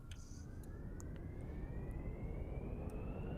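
A plane's engine starts up in BeamNG Drive: a thin whine climbs steadily in pitch over a constant low roar, fairly quiet and with no voices.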